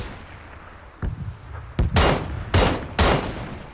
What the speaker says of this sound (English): he fired on me twice